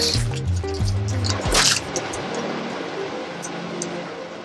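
Epoxy seal coat pours onto a wooden farmhouse tabletop in a close, steady liquid stream with glugging and dripping, then settles into a quieter trickle.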